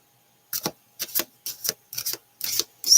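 Six short riffles of tarot or oracle cards being shuffled, evenly spaced with quiet gaps, close and crisp with no talking.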